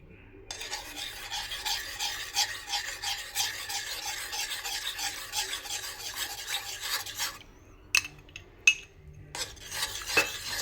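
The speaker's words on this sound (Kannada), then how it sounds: "ಕಸ್ಟರ್ಡ್ ಪೌಡರ್ ಹಾಕಿದ್ಮೇಲೆ ತಿರುಗಿಸ್ತಾ ಇರಬೇಕು" Custard powder being stirred into milk in a pan for caramel pudding, a steady close scraping and rasping of a spoon against the pan that runs continuously, then breaks into a few sharper knocks near the end.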